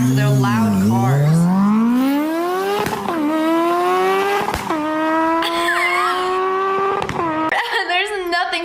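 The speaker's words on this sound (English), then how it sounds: "Nobody cares how loud your car is." Loud souped-up car engine revving hard, its pitch climbing steadily through several long pulls with brief drops between them, close and dominant throughout.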